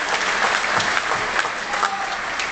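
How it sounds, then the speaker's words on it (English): Audience applause fills a playhouse at the close of a live show, a dense, steady wash of clapping heard up close with no talking over it. "Big round of applause for Miss Ruth Kerr."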